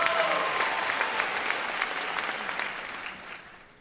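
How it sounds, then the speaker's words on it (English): An audience at an interview event breaks into sustained applause for a question, a close, dense clapping wash that slowly tapers off toward the end. "let's give a round of applause for that question"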